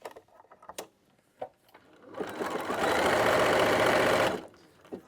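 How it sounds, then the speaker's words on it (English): A sewing machine runs a zigzag stitch over elastic sewn into a costume, a loud steady mechanical whir of about two seconds that starts and stops, with scattered handling clicks before and after. "I'm going to just sew with a zigzag right down this line"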